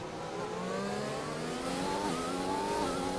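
A McLaren Formula One car engine in the racing game GP3 at the French Grand Prix whines steadily at high revs, its pitch rising and shifting through gear changes.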